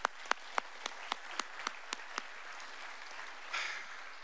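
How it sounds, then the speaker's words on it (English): A few sharp, separate claps spaced out over two seconds, like the tail end of a small round of applause for a high school band performance, then a brief soft rustle. "Can we give them one more round of applause?"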